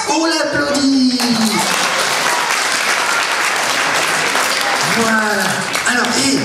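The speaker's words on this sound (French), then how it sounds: "On l'applaudit." Schoolchildren at a Guignol puppet show applaud a classmate returning to their seat, a dense, steady burst of clapping close by, with high young voices calling out over it throughout.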